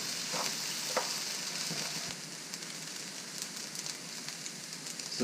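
Rice and Chinese sausage fry in a pan with a steady, fairly quiet sizzle, broken by occasional light pops and stirring scrapes.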